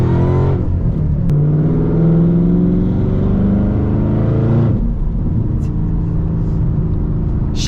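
A 2014 Shelby GT500 Havoc with a supercharged 5.8-litre Ford V8 revs loud and close, climbing into a sustained high-pitched roar for several seconds before dropping back to a deep, burbling idle.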